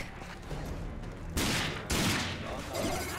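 Two sharp scoped-rifle shots in the RAGE video game, loud and close, about half a second apart, each with a broadband crack and short decay over steady game background noise.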